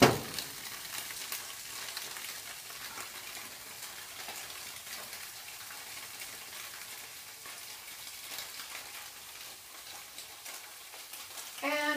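Tofu sizzles steadily in a hot pan, a soft, even frying hiss with faint crackles running the whole time at low volume, with no one speaking over it.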